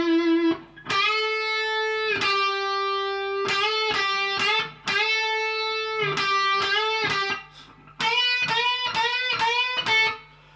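Electric guitar with distortion plays a line from a solo: bent, sustained notes in short phrases separated by brief gaps, loud and up close, with no voices.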